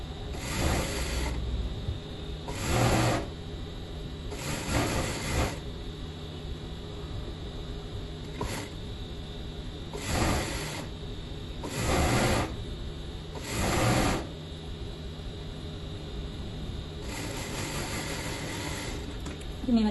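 A sewing machine stitching a narrow hem on a dress, running in repeated short bursts of steady mechanical whirring separated by brief pauses, close and fairly loud throughout.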